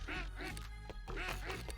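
A cartoonish duck in the video game Shmubedi Boo quacks repeatedly in quick bursts, loud and up front, layered over game music.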